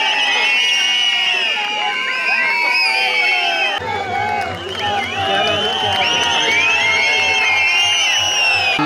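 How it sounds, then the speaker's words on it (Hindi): A ceremony crowd at a statue unveiling claps and cheers loudly, with shouts, whoops and overlapping voices throughout, the noise swelling again midway. "कृपया जोरदार तालियां बजती रहे।"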